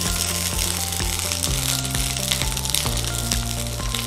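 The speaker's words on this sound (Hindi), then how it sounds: "इसको हम हल्का सा स्टर फ्राई कर लेंगे ऑयल के अंदर" Capsicum and onion stir-frying in hot oil, a loud continuous close sizzle with regular clanks and scrapes of the spoon against the pan, no talking.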